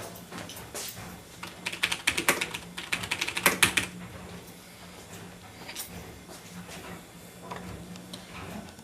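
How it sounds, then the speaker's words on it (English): Typing on a Rosewill mechanical keyboard with Cherry MX Black switches: a quick run of clacking keystrokes that settles into scattered, quieter taps, close up against a low background hum. "Cherry MX Black Switch keyboard."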